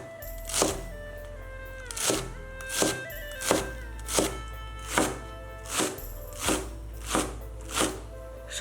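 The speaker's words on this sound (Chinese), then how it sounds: "首先把洗干净的韭菜切碎" A knife chops washed Chinese chives on a board in steady, evenly spaced strikes, about ten close, crisp thunks, with no talk.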